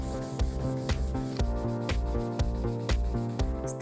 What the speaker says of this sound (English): It's out with the sandpaper and the elbow grease.